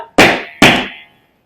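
Two sharp flamenco palmas claps in a tangos pattern, loud and close, each snapping crisply and ringing briefly before fading, evenly spaced about half a second apart.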